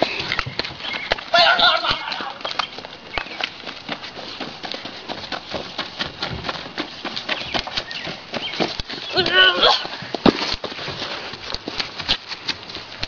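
A horse moves about in a barn, its hooves clip-clopping in irregular steps close by, while people chat and laugh over it.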